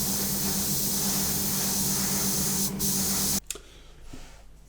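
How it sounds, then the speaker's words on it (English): A Harder and Steenbeck Infinity airbrush with a 0.4 mm nozzle sprays thinned acrylic paint in a steady, close, loud hiss that runs unbroken for over three seconds, then cuts off abruptly into near quiet. "And the airbrush is my Harder and Steenbeck Infinity."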